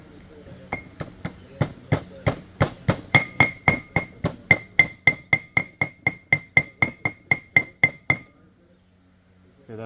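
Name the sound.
hammering a seal into place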